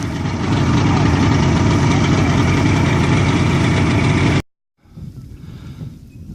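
Several bass boat engines idle together before a fishing tournament takeoff, a loud steady rumble that cuts out briefly and then returns more softly.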